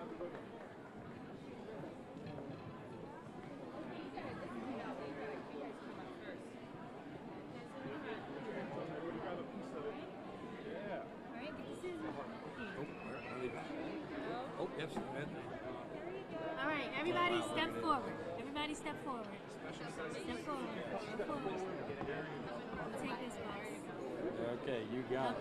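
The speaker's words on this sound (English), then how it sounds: "We've got a pretty big crowd, but we'll all squeeze in." Large crowd chattering at an elementary school ribbon-cutting ceremony, a steady dense babble of many voices throughout, swelling slightly partway through.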